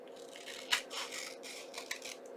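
Scissors snipping paper for a corset-style tuck card, a couple of quick, close cuts with soft rustling between them, quiet and alone.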